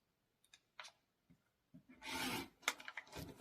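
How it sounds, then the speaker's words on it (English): A 9-inch fabric square being cut on a cutting mat, with a few faint scrapes and taps first, then a louder rough rasping cut near the end. "we're going to go ahead and count and cut our 9-inch square"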